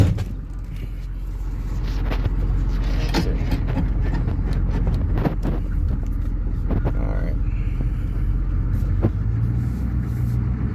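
A truck with a 6.2L Detroit diesel engine rumbles steadily along at low speed across a grassy yard, the drone continuous with scattered knocks and rattles, and a person talks over it.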